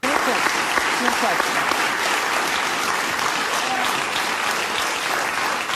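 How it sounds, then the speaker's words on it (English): A large audience claps throughout, a thick continuous roar of applause at high volume with no gaps. "she's just clapping because the audience is clapping"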